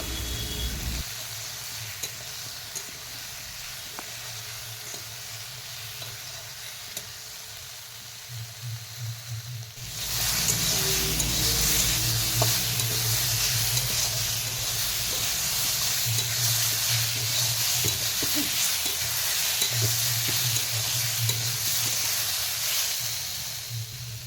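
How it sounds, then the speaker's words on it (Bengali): Okra, ridge gourd and potato fry with onion in a pan, giving a steady sizzle and hiss that grows louder and denser about halfway through, with occasional stirring scrapes and no talking. "সবজিগুলো 1 থেকে 2 মিনিট আবার পেঁয়াজের সঙ্গে মিশিয়ে নাড়াচাড়া করে ভেজে নিব"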